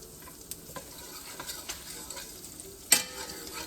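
Garlic sautés in a pan with a quiet sizzle broken by scraping stirring strokes, and one sharp utensil clack near the end, without speech.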